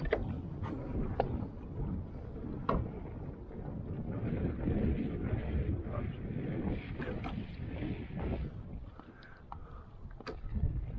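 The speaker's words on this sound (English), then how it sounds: "Wind's whipping right here now." Strong wind gusts over the ocean beside a kayak, roaring steadily and buffeting the microphone with a broad, blustery rumble for the whole stretch.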